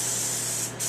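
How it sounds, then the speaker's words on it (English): A light coat of John Deere Blitz Black paint being sprayed: a steady, close hiss with a short dip near the end before the spray resumes. "you can spray this stuff on bare metal"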